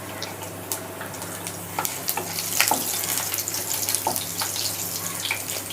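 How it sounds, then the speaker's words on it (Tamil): Fenugreek seeds and crushed garlic fry in oil for Chettinad katla fish curry, a steady close sizzle with scattered crackles and spoon scrapes. "வெந்தயமும் பூண்டும் நல்லா பொரிஞ்சிருச்சு"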